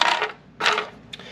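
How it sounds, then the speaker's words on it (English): New keys for a motorcycle tour pack lock jingle and clink up close, two bright metallic bursts and a softer final tap. "New keys."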